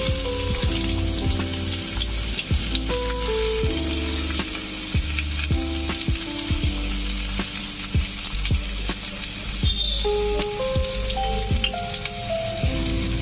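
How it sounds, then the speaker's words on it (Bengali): Potatoes frying in oil in a pan over a medium-low flame, a continuous crackling sizzle with scattered pops and occasional scraping taps from turning the pieces, close and alone without any talking. "আলুগুলো দিয়ে 2 মিনিট মতো ভেজে নেব"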